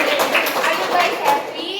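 Elementary school children clap together at the end of an English lesson in a classroom, a short burst of close, uneven clapping mixed with young voices.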